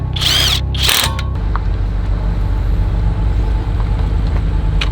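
An impact wrench bursts loudly twice in quick succession on a BMW G87 M2 wheel at a race track, close up, followed by a steady low engine-like rumble and background noise.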